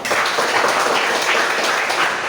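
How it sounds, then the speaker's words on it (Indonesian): A classroom audience claps for a presenting student group, a steady, dense patter of many hands that holds at an even level throughout without a break. "Tepuk tangan buat kelompok 5."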